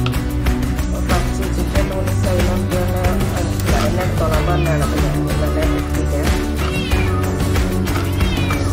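Cat meowing repeatedly in a home kitchen, a run of loud, wavering cries close by over steady background noise, with no talk.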